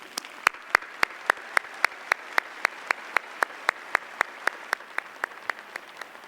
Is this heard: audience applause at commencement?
yes